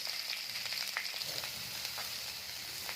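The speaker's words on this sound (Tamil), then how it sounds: "அதுக்கு எண்ணெய் ஊற்றிருக்கேன் கடுகு போட்டுருக்கேன் கருவேப்பிலை பட்டாச்சு இப்போ வெங்காயம் போடு" Onion hits hot oil with popped mustard seeds and curry leaves, making a soft, steady sizzle with faint crackles and a few light stirring scrapes, quiet and close.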